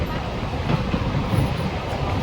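A train crosses the Pamban bridge overhead near the beach: a steady, low rumble that holds throughout, with faint rail clatter blended into broadband noise.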